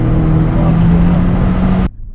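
Ford Escort MK3 RS Turbo engine held at a loud, steady rumbling rev for about two seconds, then cut off abruptly into near silence.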